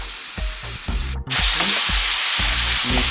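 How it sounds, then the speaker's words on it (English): Minced grass-fed ground beef sautés in a pan with a loud, continuous hiss of sizzling fat, broken by a brief cutout, alongside a steady low hum running beneath it. "I'll add minced meat with the rest of the spices. I'll saute about 1 minute on each side of the meat"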